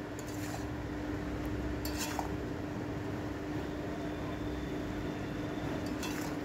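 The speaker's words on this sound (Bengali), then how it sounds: "ঢাকনা খুলে আবার শাকটা সমেত সব নেড়ে নিচ্ছি ভালো করে" Malabar spinach stems and greens are stirred in a cooking pan for a vegetarian chorchori, with faint utensil clinks and scrapes over a steady, even background hiss.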